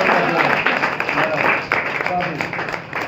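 Audience clapping breaks out during a trophy presentation at a billiard tournament prize ceremony, a dense patter of hands under loud nearby talking that continues throughout.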